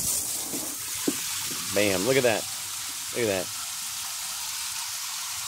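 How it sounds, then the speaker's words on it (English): Water from an off-grid camp shower at a bell tent campsite sprays in a steady broadband hiss throughout, with a brief spoken remark over it. "Great shower, nice warm shower."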